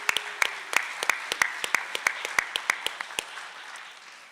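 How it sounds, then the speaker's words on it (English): Scattered applause from a conference audience at a psychedelic society symposium, with sharp individual claps in an irregular rhythm that thin out and fade toward the end. No voices. "How about one more hand of applause for the awesome panel and speakers here this weekend?"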